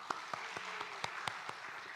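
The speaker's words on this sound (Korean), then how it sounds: "박수하겠습니다." Scattered claps from a small group at a church summer Bible school lecture, sharp separate hand claps spaced irregularly, fairly faint, with no one talking over them.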